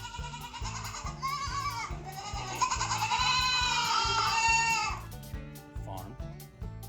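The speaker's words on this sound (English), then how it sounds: "G-O-A-T, goat." A farm goat bleats in long, wavering, nasal cries over a rhythmic music bed, close and clear, the calls swelling in the middle before fading out.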